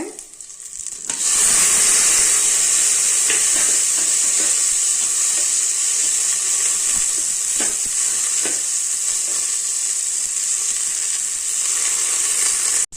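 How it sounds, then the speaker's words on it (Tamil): Onion, chili, tomato and coriander hit a hot pan and sauté with a sudden loud, steady hissing sizzle that holds for several seconds, with occasional light stirring clicks. "வெங்காயம் போட்டு நல்லா வதக்கலாங்க"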